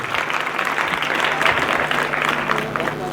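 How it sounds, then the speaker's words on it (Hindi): Students in a motivational class at a public inter college in India burst into hearty applause, close and loud, with steady dense clapping filling about three seconds. "जोरदार ताली"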